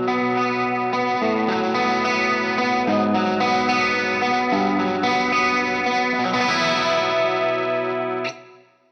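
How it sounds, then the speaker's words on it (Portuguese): Electric guitar runs through a Collateral FX Demoiselle chorus pedal set for a subtle chorus, ringing chords with gentle shimmering movement, loud and close, sustaining for several seconds before cutting off at the end with no talk. "Eu posso querer um chorus bem sutil."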